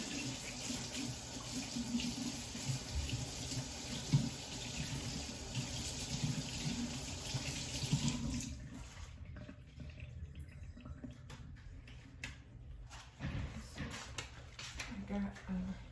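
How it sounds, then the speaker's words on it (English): Water runs steadily from a tap while gloves are washed, a close splashing stream that cuts off abruptly midway, leaving quieter handling noises and a brief trickle. "So let me wash my gloves and take them off."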